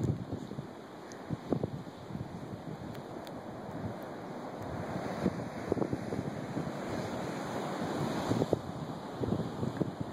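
Atlantic Ocean surf washing onto a beach, a steady roar of breaking waves with gusty wind buffeting the microphone throughout, no voices.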